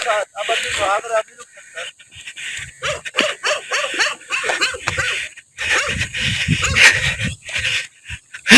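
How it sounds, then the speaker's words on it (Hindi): Several dogs bark and whimper in scattered bursts near a residential entrance on Golf Avenue, close and irregular, with people talking throughout. "ये कुत्ते भौंक रहे थे।"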